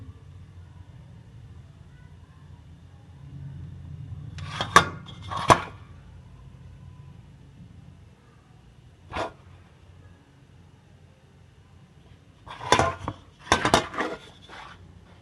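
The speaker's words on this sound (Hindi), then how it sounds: "इसके ऊपर ये फोक से छोटे छोटे निशान डालूँगी इस तरीके से" A fork presses small marks into vanilla biscuit dough on a plate, giving a few sharp clinks and taps in two short clusters over a low steady background hum, with no talking.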